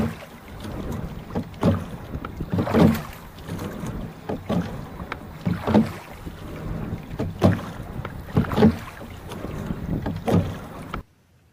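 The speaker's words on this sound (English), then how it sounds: "The metronome of oars clicking in their oarlocks becomes a meditation on impermanence" Oars click rhythmically in their oarlocks as a rowboat moves along a coastal strait in British Columbia, regular strokes about every one and a half seconds over steady wind and water noise.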